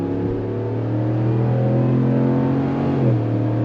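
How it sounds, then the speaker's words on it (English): A 2026 RAM 1500 Limited Hemi V8 truck with an 8-speed automatic runs with a steady, close, loud engine rumble. The pitch shifts slightly near the end as the engine note changes, and no one is talking. "the sound is back of 8 cylinders firing off"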